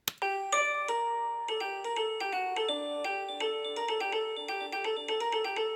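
A fugue voice played on a layered sampler instrument, bright bell-like tones in a lively melodic line with a little swing, sustained and alone throughout.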